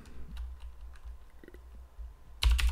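Computer keyboard typing, short clusters of soft clicks under a quiet room hum, then a louder, denser burst of keystrokes at the end.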